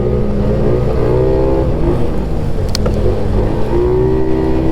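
The turbocharged four-stroke engine of a Titan S4 snowmobile drones loudly up close on a ride, steady and strong with rising rev sweeps and a brief clatter in the middle, and no talking.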